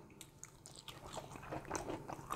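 Crispy-skinned smoked chicken wing from a Pit Barrel Cooker being bitten and chewed up close, a run of crunchy bites and mouth sounds building over a couple of seconds, with no talking.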